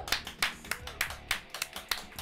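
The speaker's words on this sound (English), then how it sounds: "I know you're used to bigger applause than this." A small talk-show studio audience gives a thin, scattered round of applause, with about eight distinct claps spaced out over two seconds rather than a full ovation.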